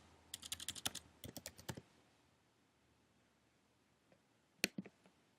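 Quick burst of computer keyboard typing as a search term is entered, a dozen or so crisp keystrokes in the first two seconds, then near silence with a couple of isolated key or mouse clicks near the end.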